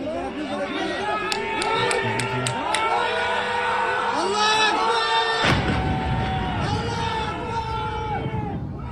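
A crowd in Bahrain yells and chants together, many voices rising and falling in overlapping shouts and whoops, loud and close, with a sudden surge of noise midway.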